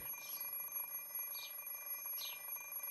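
An alarm clock rings in a visual novel game, three evenly spaced electronic beeps over a steady faint hum, with no voices.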